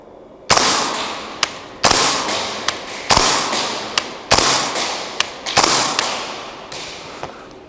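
A Radian Model 1 gas blowback airsoft rifle fires sharp, loud, close shots, several strong cracks each followed by a short decaying rush and a few lighter clicks between them, irregularly spaced across several seconds.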